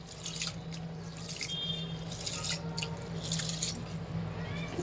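Rice being gently rinsed in water for chicken kabsa, with soft sloshing and trickling water, light splashes and a faint steady background hum, and no one talking.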